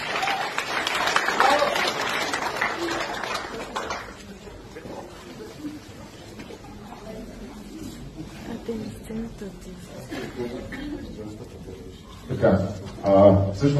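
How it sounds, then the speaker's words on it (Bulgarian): An audience applauds the participants called onto a stage, a dense burst of clapping for the first few seconds that fades as a voice begins talking, with a brief stir of noise near the end. "Аплодисменти за всички вас."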